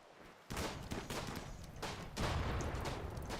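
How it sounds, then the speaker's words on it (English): Battle gunfire in RimWorld, a dense stream of crackling shots and rattling bursts that starts abruptly and keeps going, swelling louder near the end. "They're still shooting."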